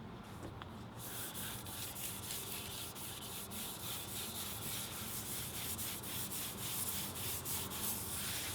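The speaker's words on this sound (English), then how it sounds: "We're gonna sand it down with 400 grit sandpaper." Steady, continuous sanding of a polyurethane-coated wood cornhole board with 400 grit sandpaper, a close, even back-and-forth rubbing rasp that holds for several seconds with no talk over it.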